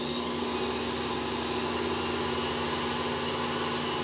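Work Sharp Ken Onion Edition knife sharpener running at a higher speed setting, a steady motor whine with a constant drone that holds evenly throughout, moderately loud and with no talk over it.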